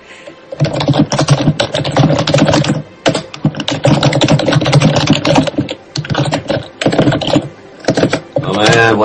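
Text typing sound effect from the video game Paper Mario: The Thousand-Year Door, rapid loud clattering bursts broken by brief pauses as dialogue scrolls, with a short tonal jingle at the end.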